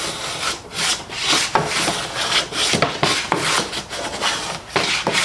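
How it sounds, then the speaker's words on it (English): Stanley No. 4 hand plane with a 55 degree high-angle frog planing a thin board of curly-grained wood: a series of rasping strokes, roughly one per second, close up with no talk. "It's actually planing some of that curly grain."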